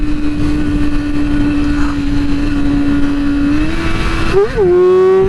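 A motorcycle engine holds a loud, steady high-pitched drone in third gear during a wheelie attempt, then the revs dip and surge near the end as the throttle changes.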